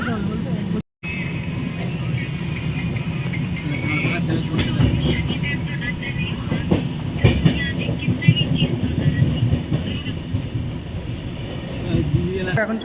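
The Jammu Tawi Express pulls out of Bardhaman Junction, its rolling rumble and rattling carriages building steadily under a nearby voice, with a brief dropout near the start.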